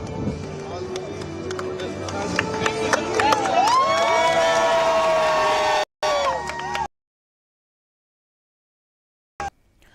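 Crowd at an athletics medal ceremony for women's javelin, cheering and shouting loudly for several seconds before cutting off abruptly, with speech in between.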